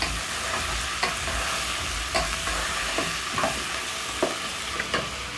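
Pork wet fry with coriander stirred in a pan gives a steady low sizzle, with a spoon scraping and clinking against the pan at irregular intervals through the whole stretch.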